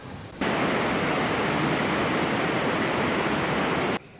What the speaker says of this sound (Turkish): Şelale çok güzel.